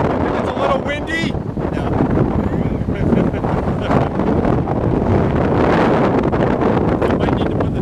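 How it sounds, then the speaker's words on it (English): Wind buffets the microphone in an open-topped 1974 VW Thing while it drives outdoors, making a steady, loud rumbling roar throughout, with a faint voice briefly audible near the start. "It's a little windy."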